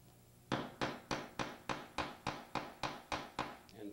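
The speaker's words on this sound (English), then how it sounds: "take a ball peen type hammer" Eleven evenly spaced metallic strikes of a ball peen hammer flattening a copper rivet on a knife sheath, steady rhythm, close and crisp, each ringing briefly before the next blow.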